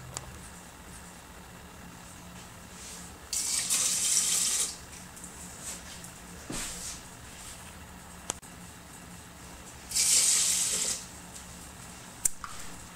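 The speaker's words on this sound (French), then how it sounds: "je vais mettre les 2 doses d'eau" Water poured into a rice cooker to cook rice, two separate bursts of a steady splashing stream, each lasting one to two seconds, with quiet handling noises between them.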